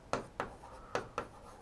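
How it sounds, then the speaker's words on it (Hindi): Chalk or marker strokes on a board during a lesson, four short scratchy strokes in an uneven rhythm, close and fairly quiet with no talk. "मैं यहां पे एक बार लिख रहा हूं"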